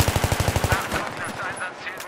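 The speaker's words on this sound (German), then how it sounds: "Das ist ein Schuss." Rapid burst of gunfire in Battlefield 3, about ten evenly spaced shots, loud and close, then fading into a busy wash of game effects and noise.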